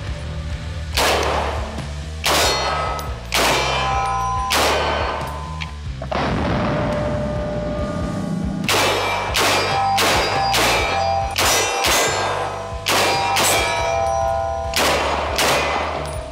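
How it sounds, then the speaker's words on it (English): Loud, sharp gunshots from a large 30-06 AK-pattern rifle, fired as a string of separate reports about a second apart with some quicker pairs, each followed by a ringing echo outdoors. "let's shoot this bad boy"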